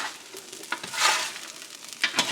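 Okra sizzling and crackling in a hot cast iron frying pan, a hissing fry with occasional louder spits and stirring scrapes, no talking.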